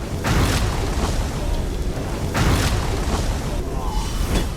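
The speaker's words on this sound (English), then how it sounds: "She does this explosion, which is pretty much a one-shot kill in Veteran hard mode." A boss's explosion ability in The Elder Scrolls Online, heard as two heavy booming bursts in a dungeon fight, loud and close over steady game noise.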